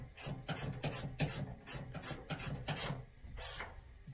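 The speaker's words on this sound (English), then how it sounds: "So right now I'm just cranking on it with this shorter one." Ratcheting wrench cranking a bolt on a Toyota 4Runner bull bumper, a steady run of about a dozen rasping clicks in quick rhythm, close and clear with no talk.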